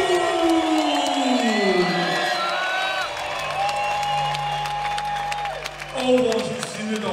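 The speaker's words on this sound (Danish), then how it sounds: "giv kæmpe bifald til vores bokser i det røde hjørne" Royal Arena crowd at a Danish Fight Night boxing event cheering, whooping and applauding for a boxer in the red corner: a broad, steady roar beneath an announcer's amplified voice.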